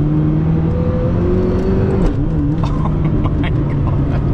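A Zenvo hypercar pulls away hard, its engine note climbing steadily through the gears with a brief dip at a shift, loud and close from inside the cabin.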